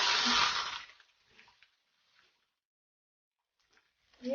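Water splashes over a store-bought tandoori roti as it is wetted, a loud watery burst at the start that fades into faint drips and small wet sounds, with another brief splash at the end.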